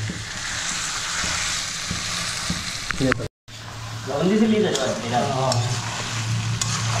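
Desi-style mutton curry is stirred and fried in a wok, with steady loud sizzling and scraping stir strokes that break briefly partway, while a person talks over the cooking.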